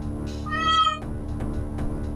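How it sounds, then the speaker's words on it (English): A cat gives a single clear, close meow lasting about half a second, followed by quiet room sound with a few soft bumps. "That was my cat."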